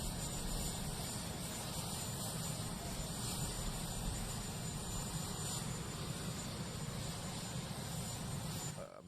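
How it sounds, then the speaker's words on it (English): A jet engine roars in a continuous broadband rumble, steady and fairly faint, sustained without break and fading slightly at the very end, with no voices present. "It's just a jet engine."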